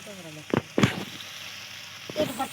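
Green chillies are sautéed in a pan for a prawn and jackfruit curry, giving a soft, steady sizzle with a few sharp stirring scrapes. A voice briefly speaks near the start and again near the end.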